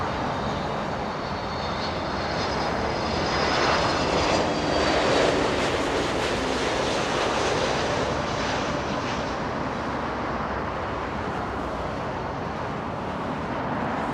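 A Delta airliner takes off from runway 24 left at Los Angeles International Airport, a steady, loud jet engine roar that swells slightly midway and holds for the whole stretch, with faint wind and road noise beneath.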